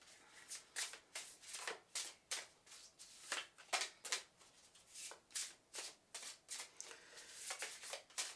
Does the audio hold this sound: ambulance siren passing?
no